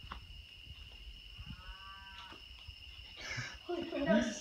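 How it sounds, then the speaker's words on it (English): A cow moos once in the middle distance at night near an abandoned barn, a drawn-out low call, followed by rustling and faint voices nearby. "That's a sketchy cow."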